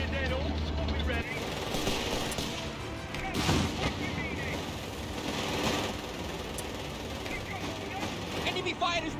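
Battlefield gunfire in the World War II strategy game Company of Heroes 3, Italy campaign: dense, continuous bursts of shots and booms with a sharp blast near the middle, mixed with shouting voices throughout.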